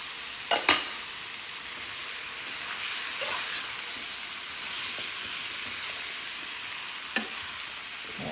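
Tomatoes sauté in a pan for a vegan curry with a steady, close sizzle. A few utensil clicks come near the start and one more toward the end.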